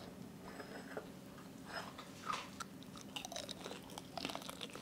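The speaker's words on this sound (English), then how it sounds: "Crunch." Crunchy bites of porcupine chicken with crispy potatoes, a string of close, dry crunches and chewing sounds spread over several seconds, with no talking.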